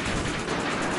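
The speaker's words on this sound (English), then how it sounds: "That was a mighty explosion." A broad, rumbling blast from an explosion in the video game 1976 Back to Midway on PlayStation VR, sustained and dense throughout with a crackling, noisy texture and no talk.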